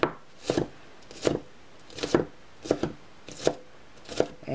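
A knife chops tomatoes, onions and chilies for pico de gallo on a wooden cutting board, with roughly seven evenly spaced, crisp close thunks and no talking.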